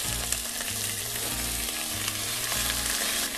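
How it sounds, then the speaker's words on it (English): Chunks of meat for Persian dizi abgoosht browning on medium-high heat in a hot pot, a steady close sizzle with faint stirring scrapes throughout, no talk. "So you do this on medium high, and make sure these chunks of meat are browned on all sides."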